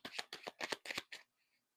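Tarot cards are shuffled close by in five quick, crisp riffling bursts, each about a fifth of a second long. The shuffling stops abruptly, leaving near silence.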